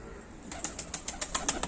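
Rapid, regular flapping of pigeon wings up close, about a dozen soft beats in quick rhythm over a faint background hiss.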